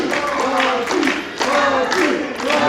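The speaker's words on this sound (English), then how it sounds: "The crowd getting solidly behind El Cachi." Wrestling crowd at a Revolt Pro Wrestling show cheering and clapping in steady waves, loud and close, with a commentator's voice running over the noise.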